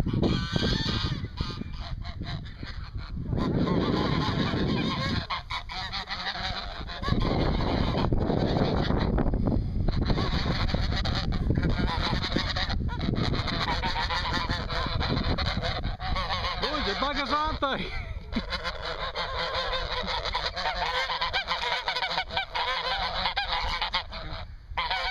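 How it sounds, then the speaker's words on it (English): A flock of geese honks continuously nearby in the Adelaide Hills, loud overlapping calls over gusty wind buffeting the microphone. "Looks like the geese come to play."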